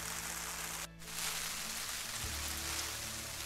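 Heavy rain pours outdoors on a hillside plateau, a steady loud wash of rainfall with a brief dip near the start and a low rumble entering later, no voices heard.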